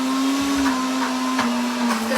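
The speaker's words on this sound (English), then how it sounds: "So this blender, guys, we use it every day, twice a day." An electric kitchen blender grinds peanut butter with a loud, steady motor drone and a constant high whine, its pitch dipping slightly now and then, running alone without talk.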